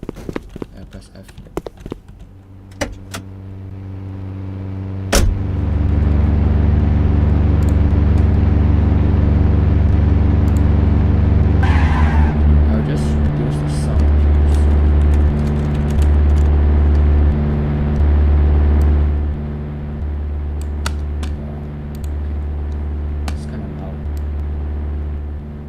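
A video-game car drives on a road, its engine a steady low droning hum that starts after a few seconds of clicks and keeps going with shifts in pitch, while a person talks over it.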